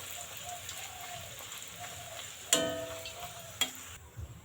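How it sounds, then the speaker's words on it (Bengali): Fuchka puris frying in shallow oil, two or three at a time, give a steady low sizzle with faint bubbling, broken by a couple of sharp clinks of utensils against the pan; no voices. "একটু তেলটা কম হয়েছে জন্য হয়তো একটু কম করে ভাজে লাগছে, দুইটা তিনটে করে"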